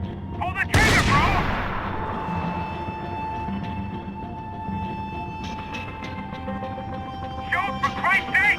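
Gunfire in the video game Max Payne 3: one loud close gunshot with a long ringing decay, then quieter scattered shots and effects under people talking.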